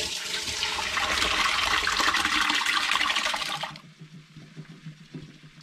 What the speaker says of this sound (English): I'm going to pour that through a strainer into a fresh pan